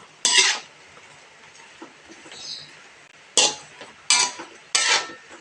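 A utensil stirs squid and eggplant in a pan of coconut milk, giving four sharp scraping clatters spaced apart over a quiet background.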